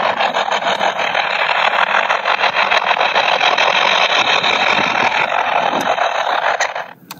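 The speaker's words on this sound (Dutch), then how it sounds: "Al dat geluid, dat zijn allemaal individuele mannetjes van de heidezabelspringhaan." Many male heath grasshoppers on heathland, heard through a bat detector as a dense, continuous buzzing hiss with rapid fine pulsing. It holds steady and close for several seconds, then fades out at the end. No voices.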